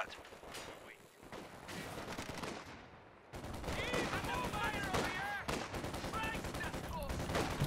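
Rapid bursts of gunfire and rattling weapon volleys from the video game Company of Heroes 2 play during a 2v2 match with snipers, dense and continuous with a brief lull partway through.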